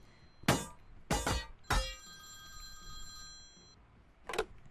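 Telephone ringing in the Priest Simulator video game: three sharp bell rings in quick succession, the last one trailing off in a long ringing tone, then a softer fourth ring after a pause, loud and close.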